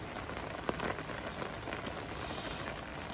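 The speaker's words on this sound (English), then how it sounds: "But no, it's got to be raining." Steady rain falls outdoors in a continuous even patter close by, with no voices and only a faint isolated drop standing out.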